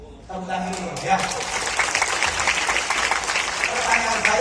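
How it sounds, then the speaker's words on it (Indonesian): Seminar audience bursts into applause after a brief spoken line, dense clapping from a roomful of people sustained and fairly loud to the end at a motivation seminar in Bandung. "Tepuk tangan dulu ya."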